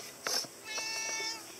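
A cat gives a couple of short meows, close and clear, the second drawn out slightly longer.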